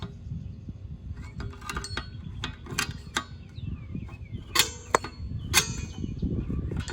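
Adjusting the parking brake on a 1996 Jeep Grand Cherokee with a flathead screwdriver, heard as scattered close metallic clinks, ticks and brief scraping rasps over a low rumbling background.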